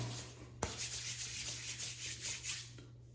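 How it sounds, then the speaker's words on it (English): Beard balm being rubbed between the palms: a soft, steady, close swishing friction with a faint low hum underneath and a small tap near the start. "Rub it around in my palms, break it down."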